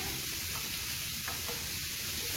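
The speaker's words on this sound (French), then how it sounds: "Et maintenant je laisse les oignons cuire." Onions frying in a pan for a stuffed butternut squash, giving a steady, soft, continuous hiss and sizzle at low volume with no break and no talking.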